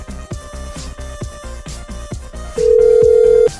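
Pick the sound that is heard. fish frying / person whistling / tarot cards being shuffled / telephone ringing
telephone ringing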